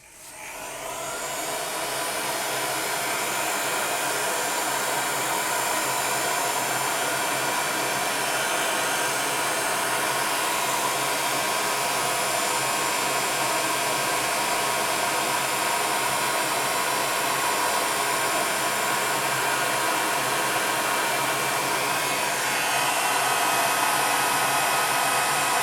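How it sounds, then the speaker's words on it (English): A heat gun set to its highest heat and lowest fan speed, used on liquid polymer clay, gives a steady, loud whooshing blow that holds constant for the whole stretch with no talk. "Now I'm going to put my heat gun on highest heat setting and lowest wind speed."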